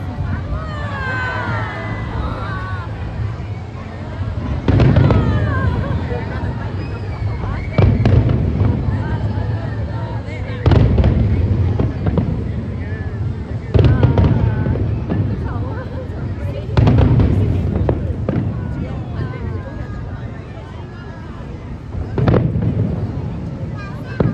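Repeated fireworks bursts boom every few seconds at a Chinese New Year drone and fireworks show in Macau, over a steady crowd murmur and nearby chatter, each blast sharp and fairly close.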